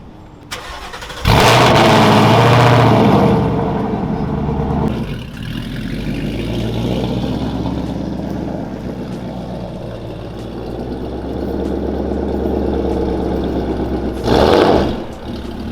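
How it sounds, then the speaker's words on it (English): Car engine starting with a loud catch, then idling and running at a steady mid-pitched hum while being moved to a parking spot, with a second surge near the end. "gonna go ahead and move my car to a better spot"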